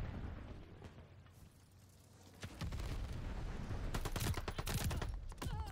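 Rapid bursts of automatic gunfire from Call of Duty: Vanguard, quieter at first and then loud and dense from midway on, with sharp repeated shots crowding the second half.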